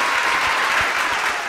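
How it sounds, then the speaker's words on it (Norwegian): Brief, loud burst of studio audience applause on a Norwegian gaming podcast, a thick steady patter of many hands clapping at once. "Sedvanlig applaus."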